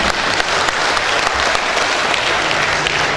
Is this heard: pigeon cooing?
no